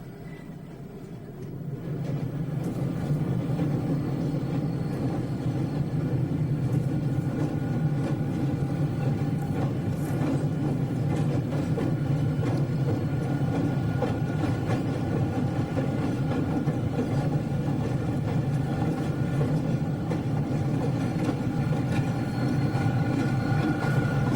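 A Toledo, Peoria and Western westbound local freight train crosses the Indiana Bridge at Monticello, Indiana, in 1993, a steady low diesel engine rumble holding constant and fairly close throughout, with no talk.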